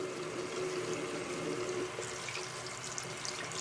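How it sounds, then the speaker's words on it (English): Tap water runs steadily into a sink while a hand is rinsed during makeup brush cleaning, a soft close splashing stream with no talking. "Just rinse your hand off and keep rubbing it."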